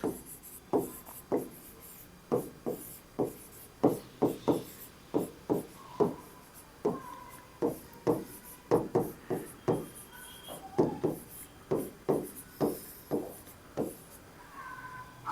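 A pen writes notes on paper in quick bursts of scratchy strokes, close and fairly loud, with short pauses between words and no talking.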